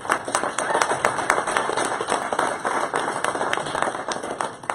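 A room of listeners at a Google presentation breaks into a round of clapping, many hands striking in a dense, steady patter at moderate loudness, lasting the whole stretch.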